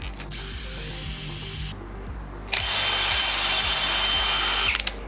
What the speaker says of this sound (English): Number 1, a cordless drill. This is used for mixing thin set mortar